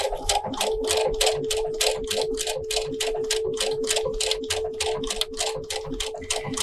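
A Brother sewing machine stitches decorative stitches at a small stitch length, with a steady motor hum beneath a fast, even run of needle strikes that continues without pause.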